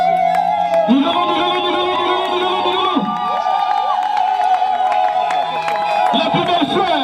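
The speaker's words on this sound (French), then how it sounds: "Sous vos applaudissements." At a civil wedding, guests cheer and whoop loudly for the bride as she arrives with her father. Sustained crowd noise mixes with shouting and some applause, and voices ring out throughout.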